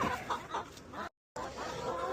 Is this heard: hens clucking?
yes